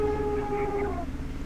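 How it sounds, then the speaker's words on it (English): An elephant calls from back off a rural road: a single drawn-out, tonal cry lasting about a second at moderate distance, then tailing off into a low background rumble. "That's an elephant."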